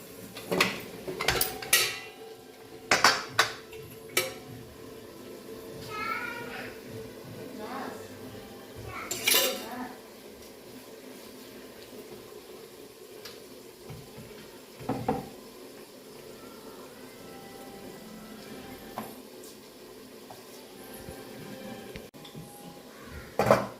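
Chapatis being made in a home kitchen, with dishes, pots and cutlery clattering in scattered bursts and occasional clanks over a steady background hum, close and moderately loud, while people talk faintly now and then.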